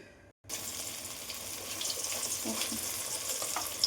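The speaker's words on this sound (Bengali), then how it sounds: "বাটাটা কিন্তু তেলে আমি দিয়ে দিলাম" Spice paste hitting hot oil in a wok in a home kitchen, a sudden steady broadband sizzle that starts abruptly and holds loud and continuous with faint stirring scrapes.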